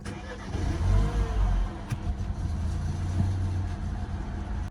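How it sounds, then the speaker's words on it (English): A car engine catches on start and settles into a steady, smooth-running idle with no misfire, close and fairly loud with no talking. "as I started the car, to my actual surprise, we didn't have any misfire"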